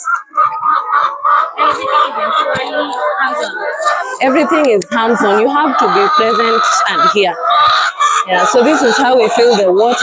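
Chickens cluck and crow continuously on a working poultry farm during water filling, loud and close, with people talking over the birds throughout.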